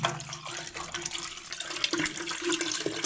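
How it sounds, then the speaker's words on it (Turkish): Water is poured from a container into a toilet cistern, a continuous splashing trickle with a few louder gushes, nearby and with no talking. "Şimdi hem elimle sürttüm hem de su döküyorum oraya."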